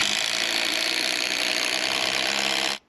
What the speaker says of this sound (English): Right now, I'm gonna drill the holes for the carriage bolts